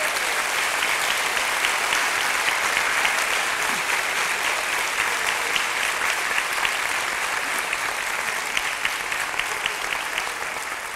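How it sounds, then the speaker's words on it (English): A hall audience at a college event gives sustained applause for standing high school students, a dense even clapping that continues for the whole stretch. "let's give them a big applause."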